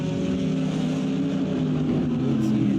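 Toyota GR86 GT300 and a Corvette GT race cars running side by side at Magny-Cours, a steady, loud engine drone with dense low harmonics that holds evenly throughout, with faint commentary voice underneath.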